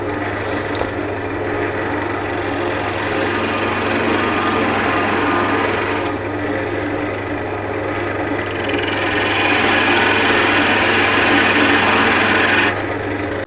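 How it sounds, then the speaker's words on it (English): A parting tool cuts into wood spinning on a lathe, making a steady, loud rasping hiss over a low motor hum that keeps going with barely any break. "I'm just going to use the parting tool here to just go in a bit on each side here"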